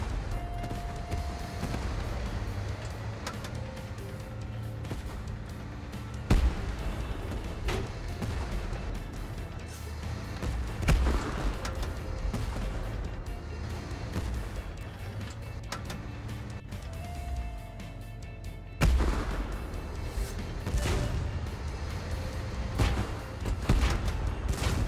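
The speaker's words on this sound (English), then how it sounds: "Under bombardment." Artillery bombardment in the tank video game Tank Force, a continuous rumbling battle bed with sharp blasts and impacts recurring every few seconds, heavy low thuds under metallic clanks, and no talk.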